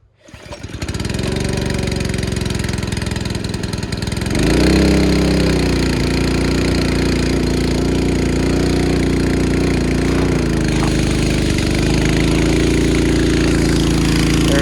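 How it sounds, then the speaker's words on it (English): A gasoline-powered water pump from a wildfire defense kit starts up and runs steadily, a loud, continuous engine drone that rises slightly in pitch and load after a few seconds and holds through the end. "Now let's go ahead and fire up the pump."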